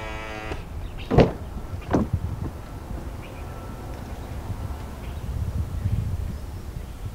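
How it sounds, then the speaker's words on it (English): A 2021 Mazda CX-9 Carbon Edition door is unlocked by pressing the black button on the handle, giving two short, close mechanical clicks about a second apart over quiet outdoor background. "you'll press the black button to unlock"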